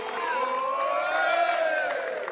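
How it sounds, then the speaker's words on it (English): Hometown crowd cheering and whooping at a European cornhole tournament in Germany, a loud, sustained roar of many voices with shrill whistles and shouts rising throughout. "You hear our hometown crowd cheering on their guys."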